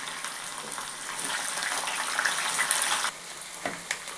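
Onions and curry leaves fry in a pan, giving a moderate hissing sizzle that fades sharply near the end, with a few faint clinks, close by and without speech.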